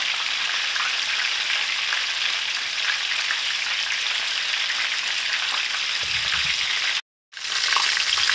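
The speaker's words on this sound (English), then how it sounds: "finish frying them on the other pan" Vietnamese spring rolls frying in oil in a pan give a steady, loud hiss and crackle that runs unbroken, with a brief cut to silence near the end before the sizzle resumes.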